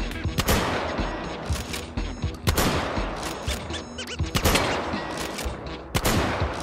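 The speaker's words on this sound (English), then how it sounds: "This is where you shoot an AA-12" An AA-12 shotgun firing explosive shells in the game H3VR lets off several loud, sharp blasts in quick bursts, each followed by a ringing crackle, with short gaps between the volleys.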